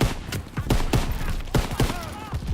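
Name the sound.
PAC 38 anti-tank guns firing in Call of Duty WWII video game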